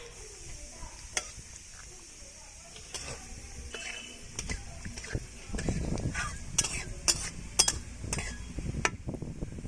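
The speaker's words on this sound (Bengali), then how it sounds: "এবার দেব গোটা শুকনো লঙ্কা আর কিছুটা জিরে।" Whole dry red chilies, cumin and bay leaf sizzle softly in hot oil for a Bihari-style mutton curry, with a low frying hiss, sharp clicks of a utensil against the pan, and stirring that grows louder toward the end.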